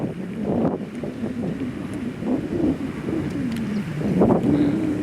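Strong wind gusts buffet the microphone on a golf course, a continuous rough rush that swells toward the end, with faint bird calls and a low voice under it.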